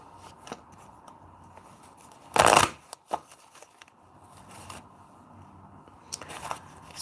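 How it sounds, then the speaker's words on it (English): Tarot cards being shuffled and drawn, heard as one loud riffling burst followed by soft scattered taps and card flicks, close by in a quiet room. "I want to get some other cards for you."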